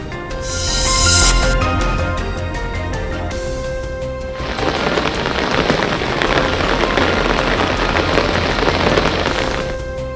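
Heavy monsoon rain pours down in Chattogram, a dense, loud, continuous roar of water striking surfaces, with a brief brighter splash early on and no voices.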